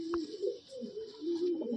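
A Madrasi pigeon in a loft at Barasat coos in low, throaty repeated phrases, close and steady, with a faint high hiss in the background.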